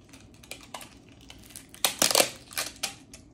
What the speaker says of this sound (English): Now this time you tape the seams, but you are going around the spoon this way because we want to make sure that the tape sticks to itself.